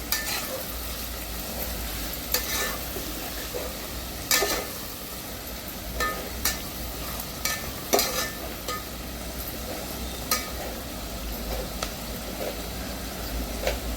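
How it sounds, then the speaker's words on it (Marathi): Onions sizzle steadily in a pan for a spicy chicken curry while a spoon scrapes and clacks against the metal every second or two. The sound is close and continuous, with no voices. "तर आपण कांदा चांगला मऊ होईपर्यंत सोनेरी रंगावर भाजून घेणार आहोत."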